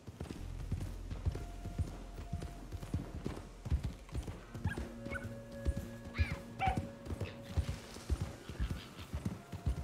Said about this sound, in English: Not sure if that was a dog or a coyote